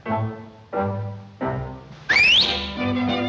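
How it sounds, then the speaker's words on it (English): A shrill rising whistle cuts in near the middle, loud and brief, over a busy 1940s cartoon music bed with bouncy notes. "Why the whistle, Sizzle?"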